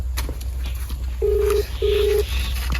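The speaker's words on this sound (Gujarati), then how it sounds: "લગાયો મેં ફોન" Two short, steady beeps from a telephone keypad being dialed in a comedy skit, evenly spaced, over a constant low background hum.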